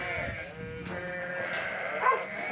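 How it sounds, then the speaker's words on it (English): Sheep bleat continuously at feeding time on a farm during lambing season, several voices overlapping in a noisy chorus at moderate distance. "So here we are feeding the sheep now. As you can probably hear, it's quite noisy."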